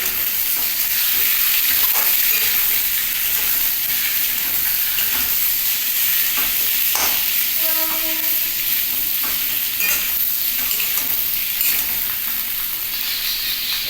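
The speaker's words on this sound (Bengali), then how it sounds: "একদম লাল লাল করে ভেজে নিচ্ছি" Pieces of chicken for dry chili chicken frying in oil until reddened, producing a loud, constant sizzle and hiss with occasional scraping stirs in the pan, close up and with no voices.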